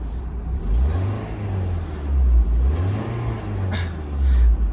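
A 1999 BMW Z3 1.9 litre sports car engine revs up and down repeatedly, the pitch rising and falling in slow waves, loud and close with a rough low rumble.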